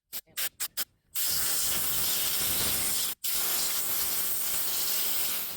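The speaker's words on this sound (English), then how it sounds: "this gets a little messy when you're using the blower" Air blower cleaning a Craftsman chainsaw, opening with several short sharp puffs, then a long loud continuous hiss that breaks off briefly and resumes.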